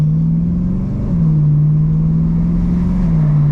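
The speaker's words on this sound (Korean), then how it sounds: "변속 충격이 아예 없어 소리도 너무 이뻐 진짜 무슨 오페라 보는 것 같아" The engine of a BMW E92 M3 drones steadily and loudly, with a smooth small dip in pitch near the first second and a slight shift again toward the end.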